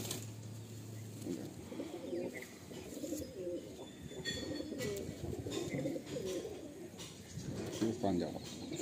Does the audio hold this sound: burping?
no